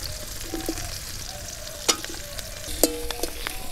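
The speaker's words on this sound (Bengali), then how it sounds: "ভেন্ডিগুলো দিয়ে একটু ভেন্ডিগুলোকে ফ্রাই করে নিতে হবে।" Chopped okra fries in a pan with a steady close sizzle, broken by a few sharp stirring clinks of a utensil against the pan.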